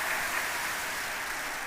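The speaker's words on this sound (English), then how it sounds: "Please clap for me." An audience at a senior nursing and midwifery managers conference gives a brief, even burst of applause that stays steady and fairly soft throughout.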